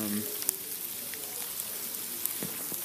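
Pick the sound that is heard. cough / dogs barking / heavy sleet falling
heavy sleet falling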